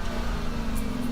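Steady low hum of a 2017 Audi Q7's 3-liter supercharged V6 with 333 horsepower running at a constant pace, a brief smooth drone inside the cabin with no voices.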